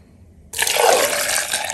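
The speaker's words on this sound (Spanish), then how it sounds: "Le vamos a agregar agua" Water pours steadily into a blender jar holding two tomatoes, a little onion and garlic, starting abruptly and continuing as a loud, close, rushing splash with no talk.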